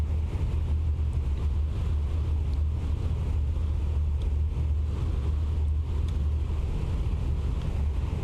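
A piston aircraft engine throttled back to about 1800 RPM, producing a steady, loud, low droning hum with constant wind-like rush, continuous throughout with no talk.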